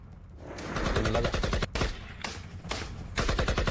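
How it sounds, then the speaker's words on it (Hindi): Rapid bursts of automatic gunfire crackle densely with brief gaps between volleys, loud and continuous against a dark outdoor backdrop during a forest encounter in Jammu and Kashmir. "गोलियों की आवाज से गूंज उठा है"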